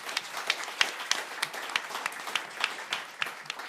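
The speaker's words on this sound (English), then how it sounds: "Let's give him a big round of applause," A panel-discussion audience at a summit gives a round of applause: many hands clapping in a quick, irregular patter, moderately loud and steady throughout with no voices on top.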